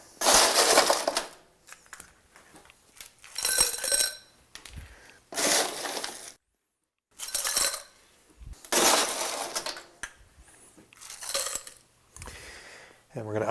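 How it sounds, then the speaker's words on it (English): Ice cubes clatter and crunch into a cocktail glass for a Caesar, several loud scooping bursts in an irregular rhythm with short quiet gaps between them. "Then we're going to ice the glass up."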